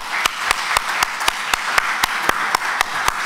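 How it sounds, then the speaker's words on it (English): Rhythmic hand claps from an audience thanking a panel at an Internet Governance Forum 2014 workshop, evenly spaced sharp beats over a steady background wash, moderately close. "I think they deserve an applause"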